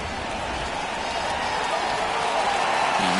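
A crowd of over 39,000 at a Pirates–Cardinals baseball game stands and applauds, a steady wash of clapping and cheering that swells slightly toward the end.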